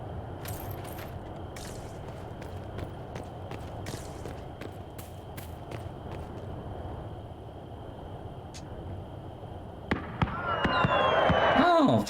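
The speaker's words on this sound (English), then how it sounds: "Oh, fireworks." Fireworks in the Dragon Age: Inquisition video game: a run of sharp crackling pops and bangs, spaced irregularly, swelling into a louder, denser burst near the end over steady background game sound.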